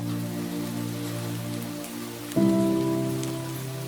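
Steady rain pours outside a cave in a Bengali fairy-tale cartoon, a continuous loud wash that swells and thickens partway through, heard alone without voices.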